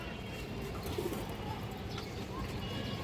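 Pigeons at a farm coo softly and continuously amid dense, steady background noise, one of them lively and restless, with no clear talk over them.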